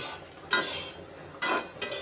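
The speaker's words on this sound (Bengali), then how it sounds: "দিয়ে দিলাম শুটকি, এখন আমি নেড়ে চেড়ে ভালো করে ভেজে নেব।" Dried loitta fish (shutki) is stirred and fried in a kadai, a low sizzle under three scraping spatula strokes against the pan, close and without talk.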